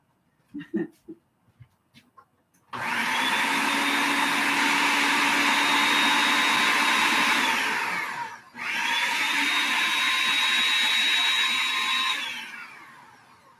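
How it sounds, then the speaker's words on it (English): A food processor whirs loudly and steadily while churning cream into butter, pausing for a split second midway before spinning up again and then winding down, after a few faint handling knocks at the start. "if you want to make butter with your food processor"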